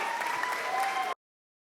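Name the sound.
concert audience applause for staff jazz band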